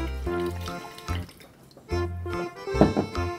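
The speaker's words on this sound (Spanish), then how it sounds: "En un recipiente vamos a agregar el agua" Water poured from a container into a bowl while making homemade pizza dough with yeast, sugar and flour, a close, steady splashing trickle that swells and fades in a few bursts.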